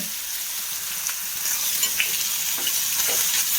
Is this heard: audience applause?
no